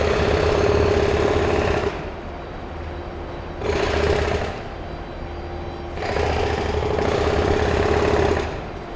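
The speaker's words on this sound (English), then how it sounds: "That's what happens every time I hear the jackhammer." A jackhammer pounds in three loud, rattling bursts of about two seconds each, separated by short lulls where a lower rumble continues; no one speaks.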